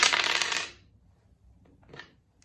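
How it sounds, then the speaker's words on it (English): A burst of hard clattering as small objects tumble and rattle across a surface, then a quieter second clack before silence. "So let's roll these dice and see what we have connected for a numbered shuffle."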